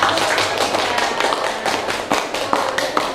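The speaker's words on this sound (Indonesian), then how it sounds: "Oke, beri tepuk tangan untuk juara 1." Classroom applause for the first-place group at a school prize-giving, a dense run of quick overlapping hand claps that stays loud and steady throughout, with no talking over it.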